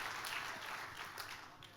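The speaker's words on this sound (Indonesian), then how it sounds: "tepuk tangan yang paling meriah buat Tuhan kita." Church congregation applauding during a sermon, a steady wash of many hands clapping that fills the whole moment at moderate level, with no talk over it.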